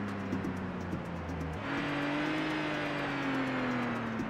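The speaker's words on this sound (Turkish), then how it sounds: "Arabanın sesine bak." Car engine in the video game The Getaway, set in London: a steady droning motor tone that rises in pitch after a shift, loud and continuous throughout.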